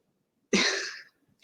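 A man gives a single sharp, loud cough that fades over about half a second, with the start of another cough right after, in an otherwise quiet room.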